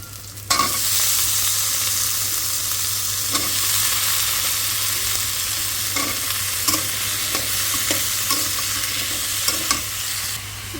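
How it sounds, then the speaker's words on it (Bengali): A loud, continuous sizzle of potatoes frying in hot oil, with occasional soft clicks and scrapes of stirring throughout. "আলু যে ভাজাটা কাটে রাখছি সেই ভাজাটা দিয়ে দেবো"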